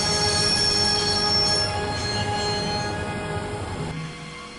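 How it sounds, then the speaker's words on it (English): A train braking to a halt in the video game Broken Sword: Reforged: loud, steady metallic wheel squeal with rumbling rail noise that drops away near the end as the train stops. "I'd always wanted to stop a train, and now was my chance."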